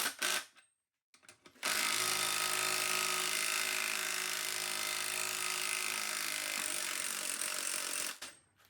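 Milwaukee M18 half-inch cordless impact wrench snugging down a tire bead breaker on an aluminum wheel, a brief burst, a pause, then one sustained loud rattling hammering run of about six seconds that stops abruptly.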